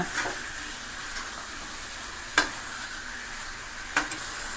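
Chicken gravy masala stirred in a pan gives a soft, steady sizzle, with a few sharp spoon scrapes against the pan standing out, and no voices.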